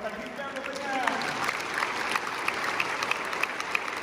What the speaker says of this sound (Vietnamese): Mọi người chúng ta cho các bác một tràng pháo tay kính chào các bác.